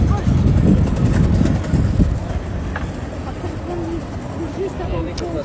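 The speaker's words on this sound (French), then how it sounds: "Il y a un peu de vent." Outdoor wind blows in steady broadband gusts against the microphone, loudest at first and then easing to a constant rush, with faint bird-like chirps in the background.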